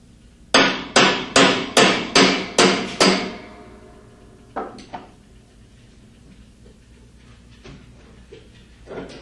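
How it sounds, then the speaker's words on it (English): Hammer striking a hex wrench to loosen a large hex nut: seven sharp metallic blows in even rhythm, close and loud, followed by a couple of softer knocks and faint clinks. "Remove the large hex nut using part number 306P4 hex wrench and a hammer."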